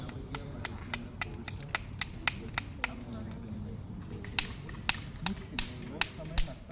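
A hammerstone strikes a stone core again and again while knapping a bifacial stone tool, the old cracks making it chip away. Sharp, bright clinks come in two quick series of about ten evenly spaced hits, a short pause between them, with soft handling noise underneath.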